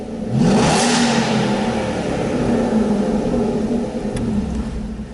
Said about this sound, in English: GT8 is the best sounding car in the world.